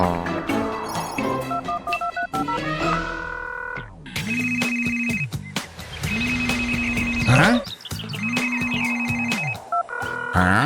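A cartoon telephone rings in three loud, warbling bursts over background music, with a short pause between each ring.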